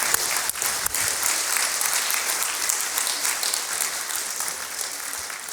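A lecture-hall audience claps steadily and densely, a loud, sustained wash of many hands that carries on throughout, with no talking.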